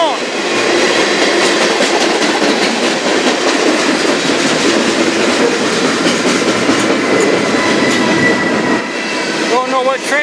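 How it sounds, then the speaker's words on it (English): A CN freight train rolls steadily past on the Strathroy Subdivision in Sarnia, Ontario, loud and close, with continuous wheel rumble, rhythmic clickety-clack over rail joints and a brief wheel squeal near the end. "Don't know what train this is."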